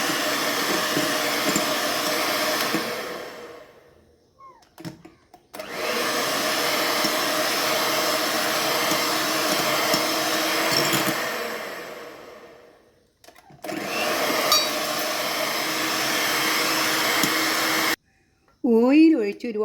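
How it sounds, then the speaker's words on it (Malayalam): Electric mixer beating sunflower oil into carrot date cake batter, a loud steady whirring motor running in two long stretches with brief pauses between, ending with a short spoken phrase. "ഇത് കുറേശ്ശെ ചേർത്ത് 2-3 പ്രാവശ്യമായിട്ട് ചേർത്ത് നമുക്കൊന്ന് ബീറ്റ് ചെയ്തെടുക്കാം."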